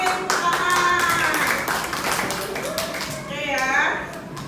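Children in a classroom clap their hands in a quick rhythmic pattern, the claps steady and close, mixed with young voices chanting along over it.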